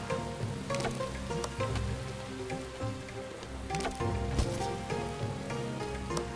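Steady rain in the video game The Settlers: Rise of an Empire patters across a surface, a continuous wash of droplets with occasional sharper splashes over a low rumble, with no talking.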